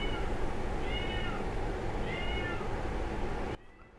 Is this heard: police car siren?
no